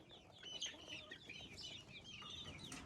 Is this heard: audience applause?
no